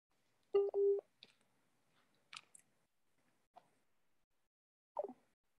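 Telephone dialing tones: two short steady beeps close together, followed by scattered faint clicks and brief rustles against near silence.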